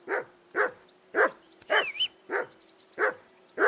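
A dog in the video game Kingdom Come Deliverance 2 barks in a steady series of about eight loud, evenly spaced barks, close up, with a brief higher whine in the middle and no talk.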